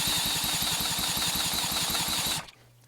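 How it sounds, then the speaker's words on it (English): An electric drill cranks a Johnson two-stroke outboard engine during a compression test with the throttle closed, making a loud, fast, even chugging pulse over a high drill whine that stops abruptly near the end, leaving a faint hum. "And we're spinning with a drill,"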